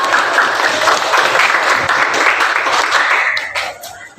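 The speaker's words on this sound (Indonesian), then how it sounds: "Kita tepuk tangan buat kelompok 3." Classroom applause for a student group after their presentation, a steady wash of many hands clapping at once that holds for several seconds and then tapers off near the end.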